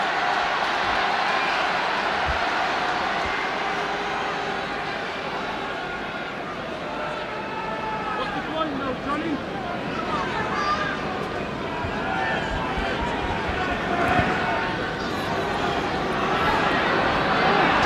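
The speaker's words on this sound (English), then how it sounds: "The crowd trying to cheer them on." Rugby crowd at an Ireland v Barbarians match, a broad distant roar of cheering and hubbub that swells slightly toward the end, with a commentator talking over it.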